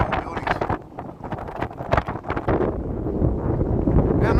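Gusty wind buffets the microphone around tall downtown Chicago buildings on a December morning street, loud rumbling rushes that swell and ease, then build to a steady roar toward the end with no talking.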